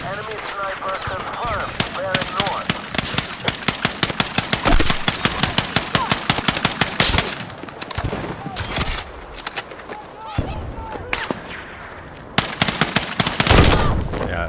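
Rapid gunfire bursts in the Battlefield 6 beta, dense automatic fire crackling in clusters with sniper shots, loud and continuous over game ambience, with a player talking at times.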